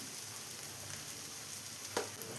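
Tomatoes sauté with chili powder in a pan, giving a faint, even sizzle with a couple of brief utensil taps near the end, quiet and close with no talk.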